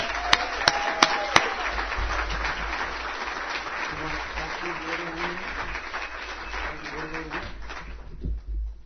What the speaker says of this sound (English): A big, nice round of applause for Willie.